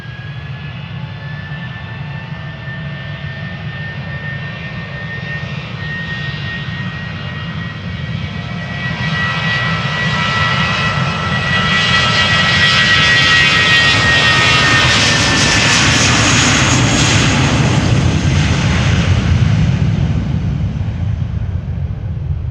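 A 20-year-old British Airways A320 jet takes off at Amsterdam Schiphol, its engine roar building steadily from a broad rumble to a loud, full-throated thrust with a high whine, sustained and unbroken throughout.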